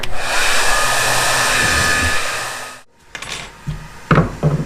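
Hair dryer blowing a steady loud roar into a motorcycle fuel tank for nearly three seconds, then cutting off, followed by faint clunks and knocks of handling.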